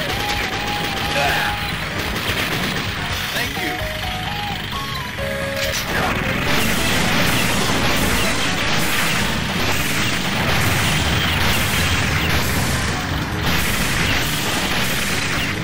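Grenade explosions and gunfire in the Metal Slug arcade game, a dense, loud, continuous barrage of booms and rapid shots layered over game audio throughout.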